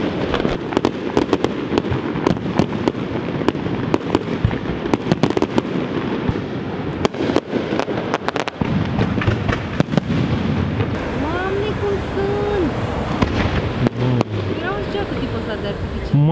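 Festival fireworks burst in rapid, crackling volleys with sharp repeated pops, loud and continuous, while people talk and exclaim in the crowd nearby.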